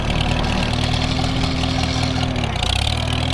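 A Farmall tractor with an M&W 9-speed transmission, running in third gear with a new carburetor, gives a loud, steady engine drone with a whining tone on top. The pitch shifts near the end.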